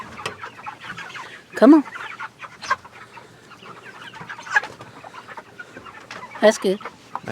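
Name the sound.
chickens clucking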